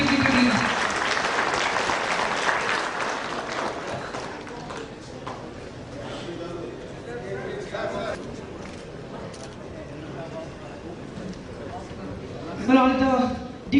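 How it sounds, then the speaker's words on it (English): Audience applause at an inaugural ceremony honouring dignitaries, a dense wash of clapping that starts loud and gradually thins out, with talk mixed in over the crowd noise. "Can we have a huge round of applause for all the dignitaries?"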